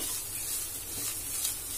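Grated coconut dry-roasting in a pan over low flame while it browns, a soft steady sizzle and faint scraping hiss running continuously without talk.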